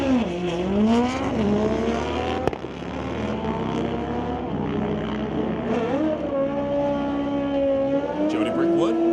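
A 1978 Kawasaki drag racing motorcycle revs hard at the strip, its engine note sweeping up and down through repeated gear-like pitch climbs, loud and sustained, with a sharp crack partway and other racing engine noise around it.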